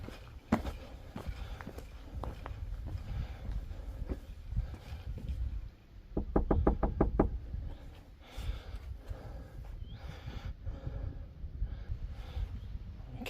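Knocking on the door of a farmhouse near holiday cottages in a rural dale: a quick series of about six sharp raps in a burst, heard over outdoor footsteps and ambient rustling.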